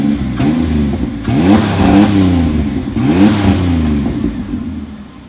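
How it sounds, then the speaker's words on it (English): A truck engine revs loudly twice, rising and falling in pitch over a rough, rumbling idle, close and without talk. "Rev the engine."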